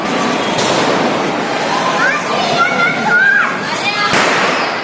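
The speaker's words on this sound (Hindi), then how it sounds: "अभी हम ये ट्राई करने जा रहे हैं स्काई शॉट। देखते हैं ये कैसा बॉम है।" A sky shot firework goes off during Diwali celebrations, with whistling rising streaks and crackling pops close by, while people talk over it.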